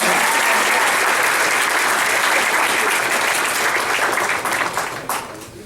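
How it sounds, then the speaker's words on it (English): Dense audience applause rings out at a high school football banquet as the coach is honored, steady and full for several seconds before thinning and fading toward the end. "Give this man a round of applause."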